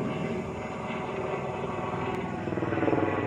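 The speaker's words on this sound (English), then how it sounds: "Helicopter. Hear it? See it? It's going right into the sun." Helicopter rotor and engine noise rumbling steadily overhead at Lake Macatawa, Michigan, swelling slightly louder toward the end, with no voices.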